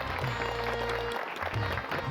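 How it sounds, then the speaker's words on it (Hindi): Audience applause, brief and dense, plays over a steady low hum from a comedy series scene. "तालियां।"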